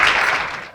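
Audience applause at a big data seminar, a steady broadband wash of clapping from a room of listeners that holds for under a second and fades slightly at the end.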